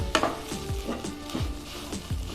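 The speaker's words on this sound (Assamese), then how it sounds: "অকণমান আৰু সিজালৈ ভাজি আছোঁ" Taro leaves (mān kochu) frying in a pan with a little turmeric, giving a soft steady sizzle broken by repeated stirring scrapes, close and moderately quiet, with no talk.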